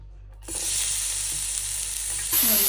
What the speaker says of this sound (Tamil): எண்ணெய் கொதிச்சுது நாங்கள் இனி இதுக்குள்ளே வெங்காயத்தை போடுவோம்